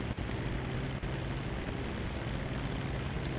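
Steady propeller airplane engine drone in a video game, a continuous broad hum that stays loud and even throughout with no talking over it.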